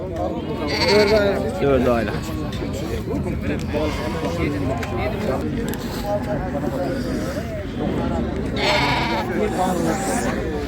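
Sheep and lambs bleating repeatedly among a flock at a holiday livestock market in Fuzuli, loud and close, with people talking throughout.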